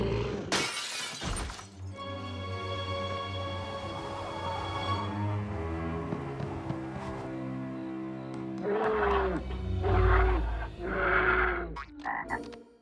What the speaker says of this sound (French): j'ai aussi transformé le réveil de Gossamer en un féroce ours géant